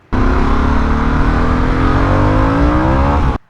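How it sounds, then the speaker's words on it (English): A Harley-Davidson Sportster S motorcycle accelerates hard through first and second gear, its engine note climbing steadily in pitch, loud and close from start to finish. "this bike accelerates really, really hard first, second gear"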